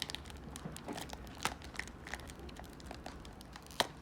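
Foil wrapper of a 2022 Topps Tier 1 trading card pack crinkles and tears in faint, scattered bursts as it resists opening, close and quiet with no talk.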